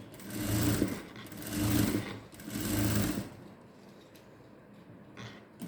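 A sewing machine stitches the lining of a net blouse in three bursts of whirring, each roughly a second long and separated by brief pauses, close and moderately loud, then falling to quiet handling sounds.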